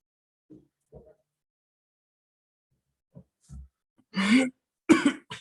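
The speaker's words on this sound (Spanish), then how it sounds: "Perdón, estoy con tos." A few faint throat noises lead into two loud, harsh coughs near the end, close to the microphone, from a teacher with a cough during a maths lesson.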